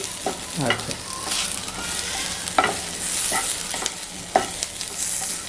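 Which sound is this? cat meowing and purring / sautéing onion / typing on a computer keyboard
sautéing onion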